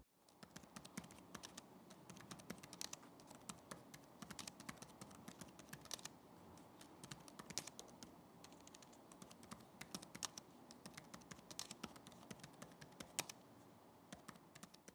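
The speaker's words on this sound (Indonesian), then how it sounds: "contoh suara feedback dari keyboard ROG Zephyrus Duo 16 GX650RW R9 2022" Rapid, steady typing on the keyboard of an ASUS ROG Zephyrus Duo 16 GX650RW R9 2022 gaming laptop, dense close key clicks continuing throughout with no voices.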